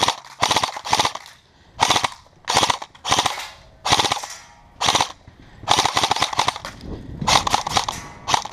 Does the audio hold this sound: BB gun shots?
yes